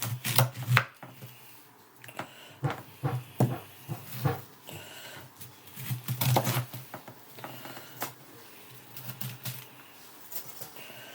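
A knife chops cabbage and other ingredients for an Auvergne-style pork and cabbage stew on a board, landing in irregular bursts of sharp close cuts with pauses between.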